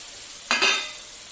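Boiled potatoes hitting hot oil in a pan and being stirred for a vegetarian dhoka dalna, a brief close sizzle burst with a scrape that fades quickly.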